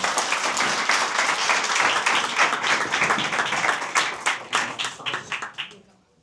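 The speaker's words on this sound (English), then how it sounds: "We just have one more round of applause" Audience applause for a panel at a side event on online safety, AI, social media and suicide: dense, steady clapping that thins into a few scattered claps and dies away near the end.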